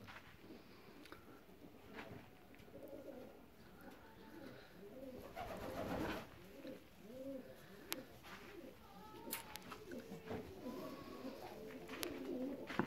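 Fancy ornamental pigeons coo softly in repeated low, rolling phrases, several birds overlapping nearby amid faint rustles and wing flutters in a quiet loft.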